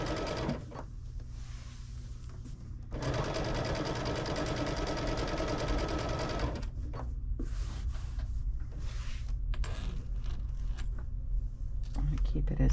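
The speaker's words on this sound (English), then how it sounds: "we're just sewing along that line, or against that line," A sewing machine stitches a scant quarter-inch seam on a June Tailor fabric shopper bag, its rapid mechanical whir running steadily for several seconds, followed by shorter bursts and clicks while someone talks throughout.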